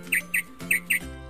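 Small birds chirp in four short, bright tweets spaced evenly over a second, close and clear with a faint low hum behind them.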